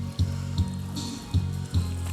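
A paddle dipping into river water at a small inlet near the sea, four soft splashing strokes in steady rhythm, close by and fairly quiet.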